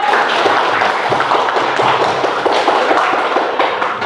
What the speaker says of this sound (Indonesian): Sekarang tepuk tangan dulu